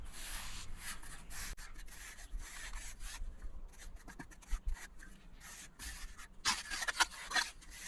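Sand rubbed by hand over carved concrete to texture a fake rock, producing soft, uneven gritty scraping strokes at close range, quiet and irregular.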